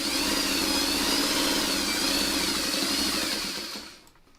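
A sewing machine runs steadily while quilting fabric in Manx quilting by machine, giving a close, continuous motor whir with a slightly wavering pitch that winds down and stops near the end.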